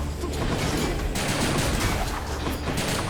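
Explosions and gunfire in the video game Hades come as a dense, continuous barrage of crackling blasts and bursts, loud and busy with no pause across the whole stretch.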